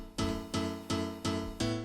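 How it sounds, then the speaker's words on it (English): Solo piano chords with a stereo widening effect, struck at a steady pace, five sustained hits with a broad, spacious sound and long ringing decay. "So this is a stereo widening"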